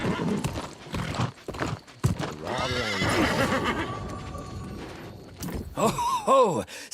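Horse in the New World: Aeternum video game, with hooves clip-clopping steadily and a loud, close whinny near the end, under overlapping game voices.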